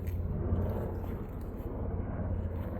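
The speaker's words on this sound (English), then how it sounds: "a helicopter going past. That's all that noise is." A low, continuous rumbling drone of a helicopter passing at a distance, steady throbbing noise with no speech.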